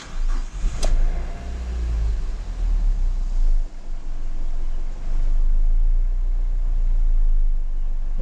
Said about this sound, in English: Let's try to turn on the car back again.